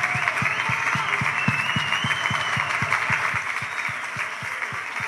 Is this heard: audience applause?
yes